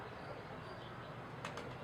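Pigeons coo and shuffle faintly in a loft alongside a steady background hum, with a couple of brief wing-flutter bursts near the end.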